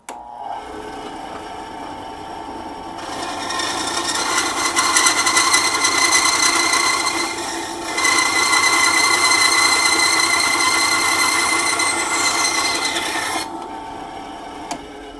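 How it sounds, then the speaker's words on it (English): A bandsaw fitted with a woodworking blade slices a small piece of aluminum, its steady motor whine swelling into a louder, harsh grinding buzz as the blade bites the metal for about ten seconds, then easing back to idle. "I'm at my bandsaw. Got a little piece of material here, a little piece of aluminum. Gonna slice it up a little bit."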